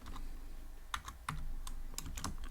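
Keys on a computer keyboard are typed in short, irregular bursts of crisp clicks, close and clear over a faint room hum, with no voices.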